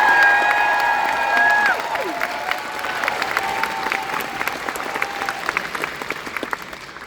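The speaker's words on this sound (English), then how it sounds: "One more huge round of applause." Comic Con panel crowd breaks into applause and cheering, with high whistles and shouts over the start, then steady clapping that fades gradually.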